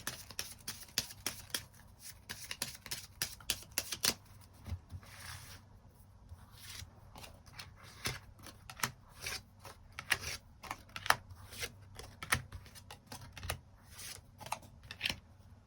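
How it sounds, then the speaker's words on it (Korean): Tarot cards are shuffled and drawn, a quick run of crisp riffling and snapping card flicks, then scattered soft slides and taps as cards are laid out, quiet and close. "카드 뽑아보도록 하겠습니다."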